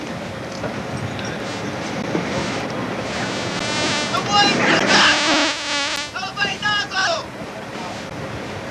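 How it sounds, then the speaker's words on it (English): Fire hoses blast water across a ship's flight deck during a helicopter firefighting drill aboard a frigate, a steady loud rushing spray with surging bursts, while voices talk over it. "They elevate their nozzles so they can look past the firefighting water."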